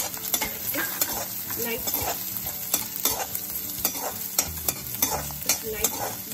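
Onions stir-fry in a pan for fried rice, a continuous close sizzle with frequent scraping and tapping strokes of a utensil, a brief word spoken once.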